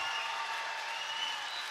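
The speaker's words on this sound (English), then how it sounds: "And the Ada-Borup-West faithful have their chance to cheer." A high school volleyball crowd at a section championship applauds and cheers in a steady, dense wash of clapping that holds evenly throughout, fairly loud and without pauses.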